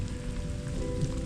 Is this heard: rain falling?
yes